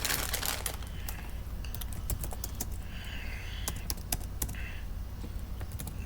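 Fingers typing on a computer keyboard, a close run of quick, irregular key clicks over a steady background hum.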